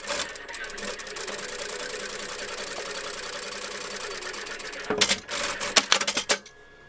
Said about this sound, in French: Et vous allez mettre une petite couture de sécurité.